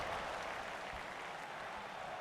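Wrestling arena crowd in WWE 2K25, a dense, steady wash of cheering and applause filling the space with no individual voices standing out, constant in level throughout.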